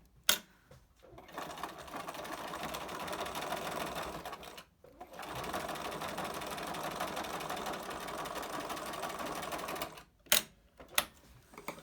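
A sewing machine runs close by, top stitching a fabric filter mask, in two long steady bursts of fast rhythmic whirring separated by a short pause, with brief handling clicks at the start and end.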